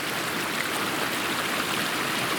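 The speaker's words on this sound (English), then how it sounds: "Made it across the Kings River" Kings River running over rocks in a steady, broadband rush, continuous and close throughout with no voices.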